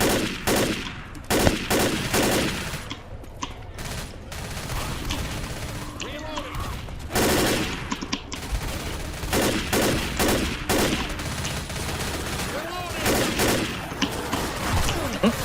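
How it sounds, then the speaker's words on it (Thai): Loud bursts of rapid automatic gunfire, with scattered single shots and brief pauses, from the game Left 4 Dead. "เสียงปืนเกมนี้ทำเราออกมาได้สะใจมาก"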